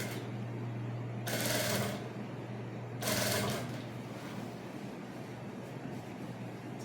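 A sewing machine stitches along a built-up collar on a bubu maxi dress, running in two short bursts with a low steady hum in between, close and fairly quiet.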